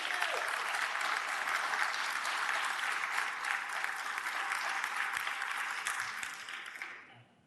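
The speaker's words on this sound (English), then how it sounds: "you want to clap after each speaker's done" An audience at a public utility rate-case hearing applauds, dense sustained clapping from many hands filling the room, holding steady before fading out at the end.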